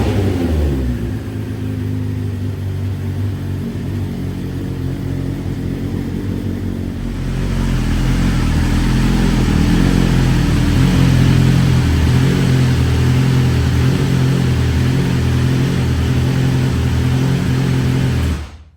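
BMW S1000RR motorcycle ridden after fitting a new quick action throttle, a loud close engine drone that steps up sharply into harder, rising pulls and gear changes, continuous throughout with no talking.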